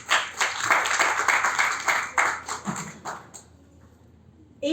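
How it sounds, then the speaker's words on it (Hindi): Audience clapping welcoming a poetry reading, a burst of applause from a seated crowd that tapers off after about three seconds into near silence. "प्लीज इसको थोड़ा आप तालियों के साथ स्वागत करें कि मेरा प्रोत्साहन बढ़े"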